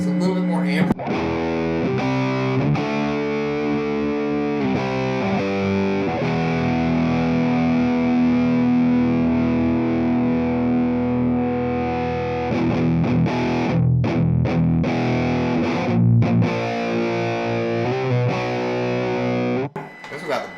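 An electric guitar played through a Fender MTG distortion pedal rings out with thick, sustained distorted chords and notes, loud and close, with a few pauses between phrases.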